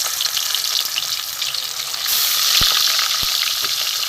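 Ganges fasa river fish pieces fry in hot oil with a loud, steady sizzle throughout, growing slightly stronger midway, with a couple of faint clicks.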